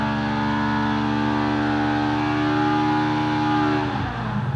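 A Polaris RZR engine on a dyno holds a loud, steady high-rpm wail that climbs slightly, then cuts off abruptly near the end, with no voices.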